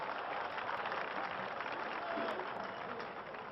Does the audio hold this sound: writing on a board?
no